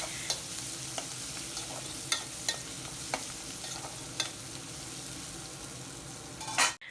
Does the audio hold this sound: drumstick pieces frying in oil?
yes